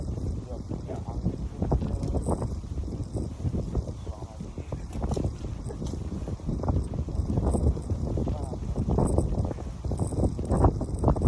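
Wind buffets the microphone outdoors in a steady, rough rush that swells and dips, while people talk over it throughout.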